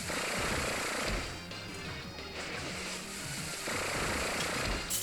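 Gear Grind attack in Pokémon Sun, a loud metallic grinding and crashing effect with heavy clanking bursts that swell, dip and surge again throughout.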